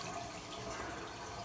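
A Delta bathroom faucet runs with its flow restrictor removed, giving a steady, even rush of water that sounds close and continuous without any break.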